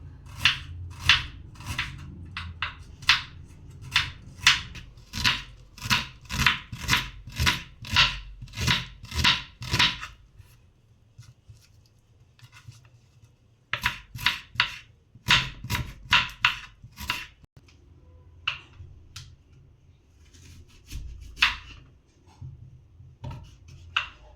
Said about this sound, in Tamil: வெங்காயம் பார்த்திங்கன்னா இந்த மாதிரி ஸ்ட்ரைட்டாக கட் பண்ணி எடுத்து வச்சுக்கலாம்.